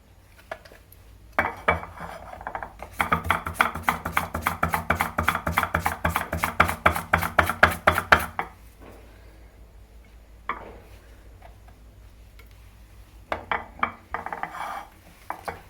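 An IKEA 365+ mandoline slicer set to its thinnest slice cuts in a fast run of rhythmic scraping strokes lasting several seconds, loud and close, followed by a few shorter bursts of slicing after pauses.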